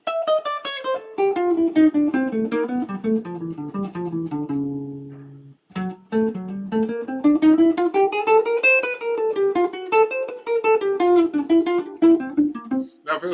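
A melodic instrument plays a running line of straight, evenly spaced eighth notes, close and clear, with a brief held note and short pause midway before the line continues.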